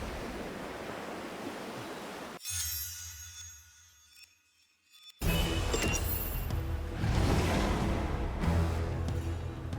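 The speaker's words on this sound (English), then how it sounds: "Can you hear the waves singing?" Ocean surf in the video game Shadow Gambit: The Cursed Crew, a steady rushing wash of waves that cuts out abruptly to near silence for a few seconds, then returns louder and fuller.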